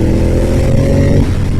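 Track-focused motorcycle engine pulling hard out of a corner, a loud, dense, close roar that holds steady and then thins out slightly near the end.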